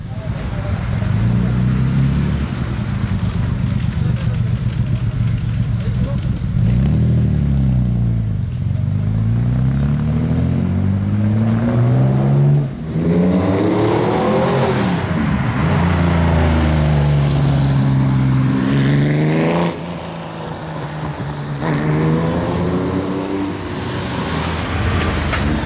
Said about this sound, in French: C'est une ancienne Porsche qui vient de démarrer ici.